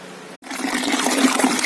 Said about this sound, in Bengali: এসে গেছে জল আমাদের।